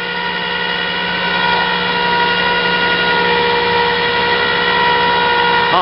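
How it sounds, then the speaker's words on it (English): A PTO-driven winch runs steadily off the vehicle's engine: a loud, continuous mechanical drone with a steady tonal whine throughout, no voices. "Yeah, that's a PTO winch. Not an electric winch."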